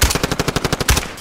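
Automatic weapon fire in Call of Duty Warzone, a rapid burst of about a dozen evenly spaced, punchy shots, loud and close with no talking.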